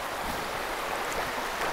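Beemarapatti Falls near Thanipadi in Tiruvannamalai rushes in a dense, steady wash of falling water, close and continuous with no break for the full moment.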